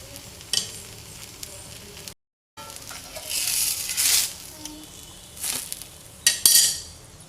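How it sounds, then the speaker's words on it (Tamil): Dosa batter with paneer masala sizzling on a hot griddle, a soft, continuous frying hiss with louder bursts as the spatula scrapes and spreads it, a brief gap of silence early on and a few metallic clinks. "ஒரு 30 செகண்ட் இப்படி பரட்டி வேக வச்சுருவோம்"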